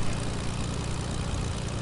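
Propeller airplane engine in a video game drones steadily and loudly with a heavy low rumble, constant and unbroken, with no voices over it.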